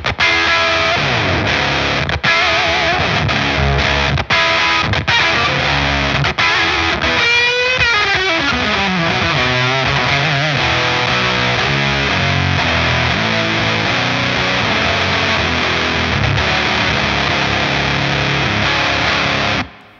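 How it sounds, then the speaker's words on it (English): A GameChanger Audio high-voltage distortion pedal drives an electric instrument into thick, intense, saturated tone, with sustained dense notes and a sweeping descending run midway, loud and continuous for the whole stretch before cutting off. "it's definitely a distortion, but it's got this extra intensity to it, which is coming from the thousands of volts"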